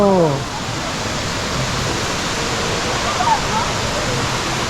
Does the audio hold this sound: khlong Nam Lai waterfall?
yes